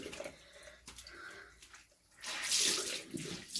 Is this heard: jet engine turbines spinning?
no